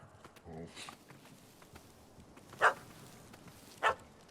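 A dog in The Witcher 3: Wild Hunt video game gives two sharp barks about a second apart, rising out of quiet outdoor ambience with faint rustling earlier.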